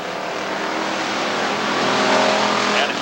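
Race cars at Rockford Speedway running side by side, a loud, steady roar of engines that swells slightly as they pass, continuous with no talking.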